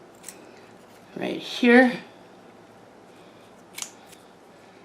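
Scissors snip through purple velvet plant stems, a couple of short crisp cuts close by, with a person speaking briefly around them.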